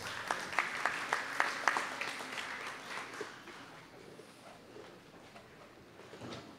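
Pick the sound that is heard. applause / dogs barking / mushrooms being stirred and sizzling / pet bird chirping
applause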